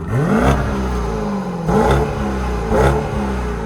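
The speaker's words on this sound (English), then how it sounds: "twin turbos are going to change the impact of the exhaust note" An Alpina B8's twin-turbo engine revs hard three times in a row in sport mode, each surge climbing and falling back, loud and close with a throaty growl.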